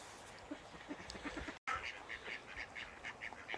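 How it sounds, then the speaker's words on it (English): Several ducks quack repeatedly outdoors in short bursts, moderately close and fairly clear, with a brief dropout midway and no talking. "And the quackers are still following me."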